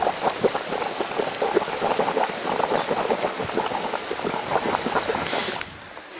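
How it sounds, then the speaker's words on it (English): Boiling water gurgles and hisses steadily at Inferno Crater in the Waimangu volcanic valley. The bubbling is dense and continuous at close range, with no voices over it, and drops a little near the end. "Кипящая вода журчит."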